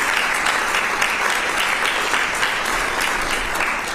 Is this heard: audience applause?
yes